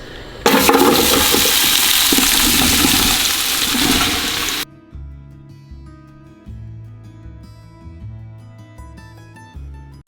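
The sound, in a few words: vegetables dumped into hot oil, sizzling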